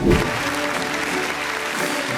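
An audience claps at a business awards ceremony, a dense steady burst of applause lasting about two seconds.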